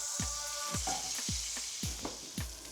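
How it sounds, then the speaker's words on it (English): Butter sizzles and crackles in a hot pan as it browns into beurre noisette, with a few sharp scraping stirs and clinks breaking through at a steady pace. "make a beurre noisette, some good local churned butter. Want that nice sizzle."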